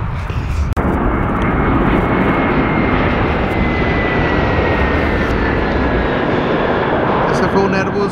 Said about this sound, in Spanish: Ese fue un Airbus 321 de Delta Airlines.